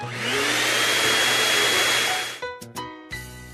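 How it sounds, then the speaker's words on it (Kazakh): A vacuum cleaner running loud and close with a steady roaring whine for over two seconds, then cutting off abruptly, followed by short tonal sounds. "Шаңсорғыш."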